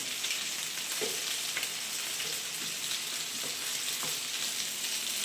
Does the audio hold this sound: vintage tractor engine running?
no